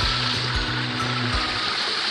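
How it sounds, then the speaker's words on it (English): A big waterfall's rushing water roars in a broad, continuous wash, with a low humming drone underneath at the start. "They got this big, giant waterfall."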